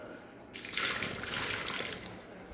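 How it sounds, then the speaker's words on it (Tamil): Water is scooped up and poured out slowly in a steady, close splashing stream that starts after a brief quiet moment and runs on without pause. "கொஞ்சம் கொஞ்சமாக தண்ணியை ஊற்றி அப்படியே பொறுமையாக ஊற்றிடுறோம்"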